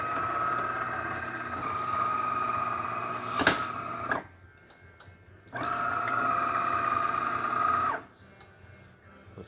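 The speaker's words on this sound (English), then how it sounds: "Get a nice shot of espresso." A DeLonghi Magnifica espresso machine, just serviced and tuned up, pulls an espresso shot. A steady pump drone runs in two long stretches separated by a pause, with one sharp click partway through the first.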